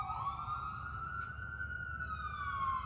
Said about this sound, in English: That being confirmation with the sirens that are coming through.